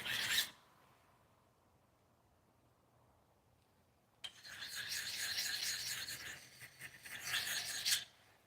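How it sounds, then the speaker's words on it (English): An axe blade being sharpened with a stone: a short rasp at the start, a quiet pause, then steady close scraping strokes for the last half, growing louder near the end. "sharpening axes."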